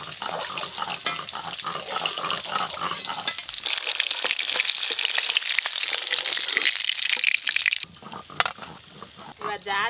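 A batch of catla fish frying all at once in hot oil, a busy crackling sizzle with stirring clatter that swells in the middle, then thins out, with faint voices near the end.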